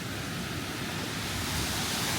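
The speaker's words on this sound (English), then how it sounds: "We're getting close to the rushing water" Water rushes continuously over a lake spillway, a dense, even roar of broadband noise with no pauses, loud and close.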